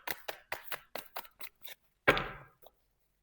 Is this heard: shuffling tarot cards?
yes